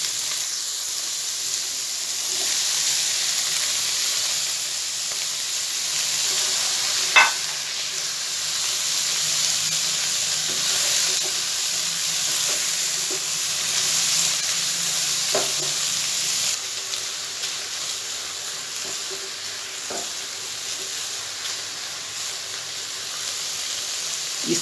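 Chicken frying in a pan with spices, a steady loud sizzle and hiss throughout, with a few scattered clinks of stirring.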